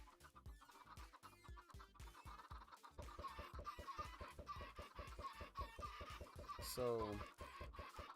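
Video game chickens cluck in a rapid, steady stream of short, close clucks over a busy game soundscape, with one louder squawk near the end.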